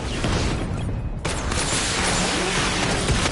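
Sustained barrage of gunfire from the Batman video game, a dense, loud, continuous rattle with a brief dip about a second in before the firing resumes at full intensity.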